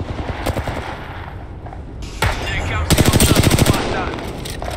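A charge rifle fires rapid bursts in a video game shootout. The loud, clattering volleys come in several short bursts, followed by a longer sustained stream of shots.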